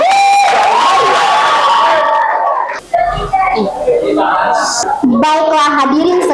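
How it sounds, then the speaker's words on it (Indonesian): Audience cheering and applause at a high school student council candidate debate, with excited shouts, whoops and children's voices over a crowd, and a loud announcer-like voice; clapping is mostly buried under the vocal noise. "Mari kita berikan tepuk tangan."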